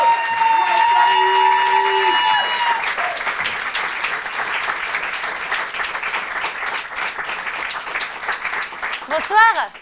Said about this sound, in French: Je vous demande d'applaudir Thaïs Vauquier.